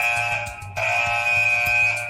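A driver fatigue monitoring camera sounds its alarm for closed eyes, a steady electronic buzzer tone with a faint pulsing low hum beneath, continuous and close.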